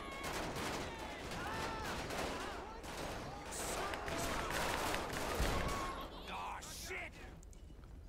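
Rapid overlapping gunfire crackles through a chaotic police shootout in GTA V with the LSPDFR mod during a sheriff's patrol, dense volleys filling the scene while a man exclaims briefly over the din.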